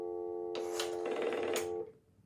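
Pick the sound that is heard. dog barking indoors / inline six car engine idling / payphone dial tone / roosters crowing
payphone dial tone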